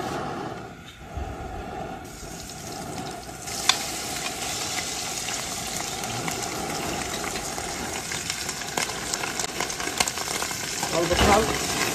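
Liver going into hot olive oil in a pan: a loud, steady sizzle and crackle of frying that persists throughout, close up, with brief stirring noises and a rise near the end.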